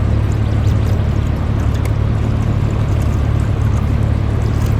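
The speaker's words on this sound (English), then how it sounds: "Lots of water coming over, that's for sure." River rapids near Horwood Lake, Ontario, rush and roar in a loud, steady, close wash of churning water with no voices.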